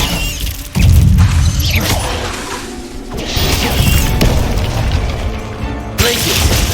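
Confringo spell explosions in Hogwarts Legacy, with loud repeated booming blasts and crashing impacts amid dense combat noise throughout.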